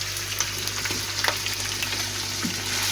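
Mutton with ginger garlic paste sizzles and fries in a pan for a turnip-and-meat dish, a steady close crackling hiss with occasional stirring scrapes and small pops throughout.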